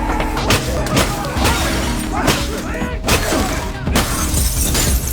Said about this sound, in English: All the windows were smashed